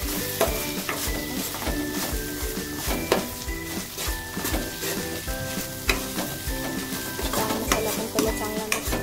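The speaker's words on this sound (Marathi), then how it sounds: "तर त्याला आपण मिक्स करूया. तर मी याच्यात आता 1 चमचा छोले मसाला टाकते." A spoon stirs chole masala powder with sliced green chili in a frying pan. The oil sizzles continuously with repeated scraping strokes, heard close up over background music.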